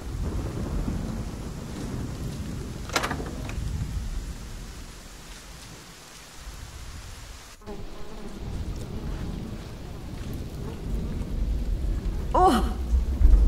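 Steady rain hisses throughout with low rumbling thunder in the video game Ken Follett's The Pillars of the Earth, a sharp crack near the middle, and brief voices surfacing now and then.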